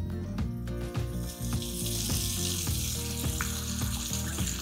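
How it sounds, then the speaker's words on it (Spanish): Sausages fry in a pan, giving a steady close sizzle and crackle with scattered pops, while some metallic clinks or music-like tones run underneath and no one speaks. "Cuando ya tengo 5 minutos friendo las salchichas, le voy a poner salsa inglesa."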